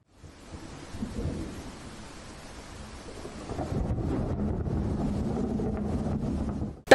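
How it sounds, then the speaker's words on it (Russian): Thunderstorm over Barnaul with heavy rain and hail: rain hisses steadily throughout while low thunder rumbles swell and build louder in the second half, with no voices. "Гроза, молния, сильный ливень и даже град."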